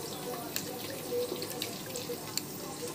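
Tap water runs steadily into a pan while milk burfi is being made in a home kitchen, a continuous close splashing stream with a few small drips and clinks.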